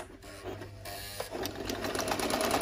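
A New Home 365c sewing machine stitches a buttonhole, a fast even mechanical chatter running throughout at close range and moderate volume.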